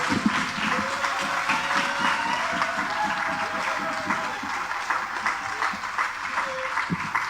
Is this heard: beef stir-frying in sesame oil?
no